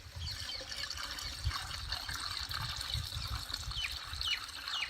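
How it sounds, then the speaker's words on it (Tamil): Water trickles and splashes steadily into a 15-litre sprayer can, with a low hollow rumble and faint birdsong in the background. "அதுக்காக தண்ணி ஊற்றி வைக்கிறேன்"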